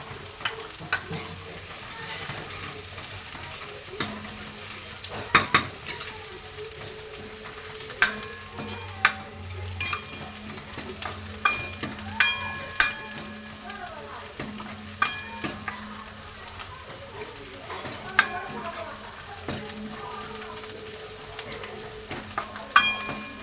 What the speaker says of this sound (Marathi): गॅसची फ्लेम मोठीच ठेवायची आहे ब्राऊन होतोपर्यंत त्याला थोडंसं परतून घ्यायचं आहे